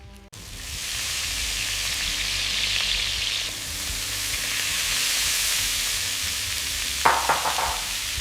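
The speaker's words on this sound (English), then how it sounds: "The key to perfectly caramelized pork is a hot pan and fresh spices" Pork searing in a hot pan with fresh spices: a steady loud sizzle and hiss of frying meat that swells and eases, ending with a few scraping stirs and clatters near the close.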